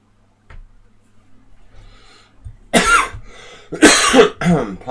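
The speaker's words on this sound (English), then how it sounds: "Apologies for coughing." A man coughs and clears his throat during an online chess session, a faint tick first, then two loud, close bursts of coughing in a quiet room.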